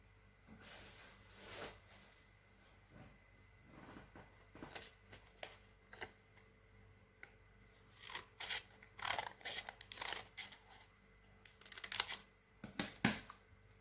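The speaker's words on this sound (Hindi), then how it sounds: "अब हम इनको इस रेखा पर इसको हम काट लेंगे" Scissors cut paper along a drawn line. Quiet, short snips come in a sparse series at first, then cluster into quicker runs of crisp cuts toward the end, with no talking.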